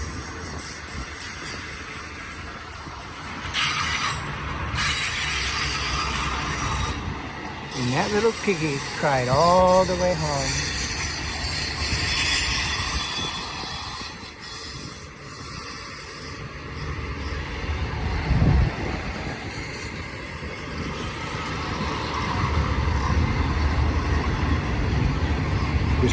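A long freight train of racks and cars rolls past at Blue Cut, a steady rumble and rattle throughout with a rising roar toward the end. Someone talks over it and a brief horn-like tone sounds in the middle.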